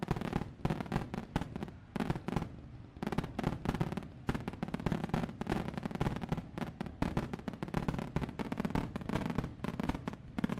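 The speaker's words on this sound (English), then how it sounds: "I think that deserves some fireworks." Stream sound effect of fireworks set off to mark Fernando Alonso going out on track during Australian GP second practice: dense, continuous crackling bursts and pops for several seconds, briefly thinning out before resuming at steady loudness.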